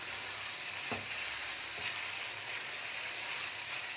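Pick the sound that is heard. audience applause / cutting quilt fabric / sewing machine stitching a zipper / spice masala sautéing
spice masala sautéing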